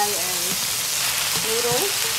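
Noodles for vegetable chow mein sizzle loudly in a hot pan, a dense, steady frying hiss up close under faint voice-like tones.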